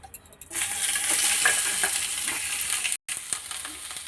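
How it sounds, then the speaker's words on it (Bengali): Chicken fries in a little oil, starting as a loud, steady close sizzle after a few quiet taps, with a momentary cut partway through before the hiss resumes. "এবার আমি আর একটু অল্প তেল দিয়ে চিকেনটা ফ্রাই করব।"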